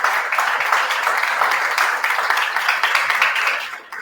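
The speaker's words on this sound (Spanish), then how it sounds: "Le damos un fuerte aplauso de agradecimiento al licenciado Barahona" An audience at a cultural art forum gives a guest speaker a sustained round of applause, dense clapping that holds steady for several seconds and then begins to fade.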